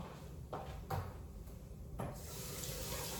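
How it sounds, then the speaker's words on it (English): A kitchen tap runs while cans are washed at the sink, a soft steady water hiss broken by a few knocks and clunks, quiet and close. "Let me wash these cans off."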